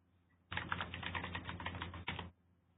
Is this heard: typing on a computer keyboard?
yes